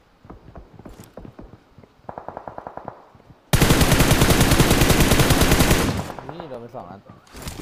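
Automatic gunfire in PUBG on the Miramar map: a short burst of evenly spaced shots, then a long, loud, rapid sustained stream of fire lasting a few seconds before tapering off, with faint talk at the start.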